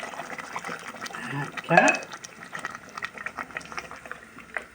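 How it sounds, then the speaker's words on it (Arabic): Water poured into a pan of tomato sauce, followed by a soft bubbling boil, moderately close, with someone talking over the liquid sounds. "هذه خلصت الطماطم درت فيها الماء"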